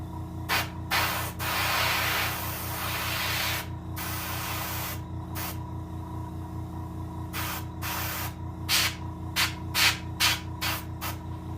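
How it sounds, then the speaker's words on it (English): Aerosol spray paint hisses in repeated bursts over a green sunfish taxidermy mount, some blasts long and steady, others short rapid puffs, close and fairly loud over a low steady hum. "Just a good spray just to bring out them fin rays real good"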